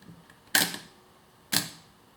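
A Chinon CE-3 Memotron film camera with M42 lens mount fires, giving two crisp, sharp mechanical clicks of the mirror and shutter about a second apart, close and clear in a quiet room.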